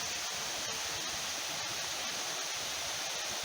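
Madison Creek Falls pours in summer with reduced flow, giving a steady, even rush of falling water that fills the scene alone, fairly soft and unbroken.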